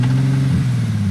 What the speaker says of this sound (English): That was the tires. They're spinning.